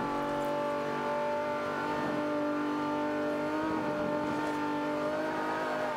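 A Ferrari engine drones at steady high revs while racing uphill in Forza Motorsport 5, a loud unbroken roar with no pauses and no talk.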